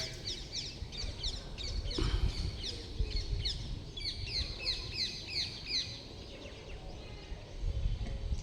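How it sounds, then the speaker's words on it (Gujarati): Many birds chirp and tweet in quick bursts, a busy outdoor chorus with a low rumble underneath. "પક્ષીનો અવાજ આવી રહ્યો છે."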